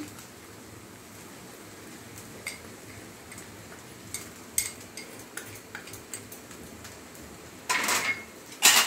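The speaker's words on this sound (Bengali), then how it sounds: "টেস্ট মেকারটা মিশিয়ে দিচ্ছি।" Mixed noodles with prawns are stirred as taste maker seasoning goes in: sparse light ticks and scrapes of a utensil against a pan, ending in a couple of louder rough scraping bursts.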